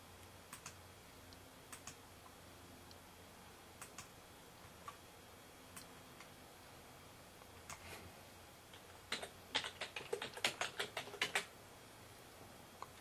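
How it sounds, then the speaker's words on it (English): Scattered soft keystrokes on a computer keyboard, faint and sparse at first, then a quick burst of typing near the end, close and quiet with no talk. "go to the command prompt and run command and type in ipconfig"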